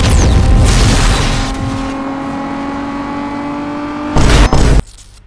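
A red car's engine roars in the video game Need for Speed Most Wanted: a loud rev that settles into a steady drone, then a few sharp bursts before cutting off abruptly.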